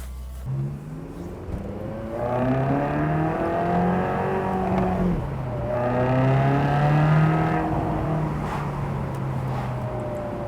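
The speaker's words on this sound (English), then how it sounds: "this being the naturally aspirated V8 engine underneath that hood, producing 453 brake horsepower" A 2010 Ferrari California's naturally aspirated V8 revs hard under acceleration, pitch climbing steadily, dropping briefly at a manual upshift, then rising again, loud and close throughout.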